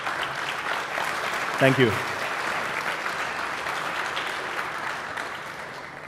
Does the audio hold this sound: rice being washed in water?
no